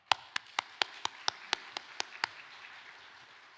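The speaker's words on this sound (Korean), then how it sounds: "목사님 오실 때 환영의 박수 하겠습니다" About ten distinct claps ring out in a steady, evenly spaced rhythm, crisp and close, as welcoming applause for a pastor at an Easter union worship service, then fade into quiet room ambience.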